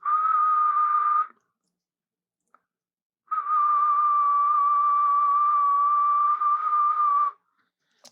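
Two steady, clear whistled tones, a short one then a longer one held for about four seconds, with silence between and no talking.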